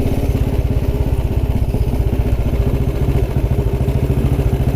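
A 1929 'Black' Ariel motorcycle thumps along country lanes, its single engine beating in a fast, even rhythm, loud and close with a clattering mechanical edge and no talk.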